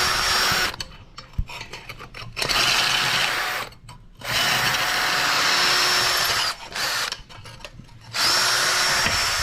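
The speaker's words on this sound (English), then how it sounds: "I'm literally just drilling the shit out of it" A power drill bores holes into the solid steel catalytic converter of a 2007–2010 Honda CR-V with a K24Z1 engine, loud whining bursts of several seconds each, separated by brief pauses.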